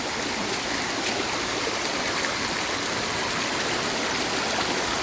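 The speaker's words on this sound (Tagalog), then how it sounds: "Tingnan natin yung waterfalls guys" A waterfall and stream flowing in a countryside province, a steady broadband rush of moving water heard alone at a moderate level without pause.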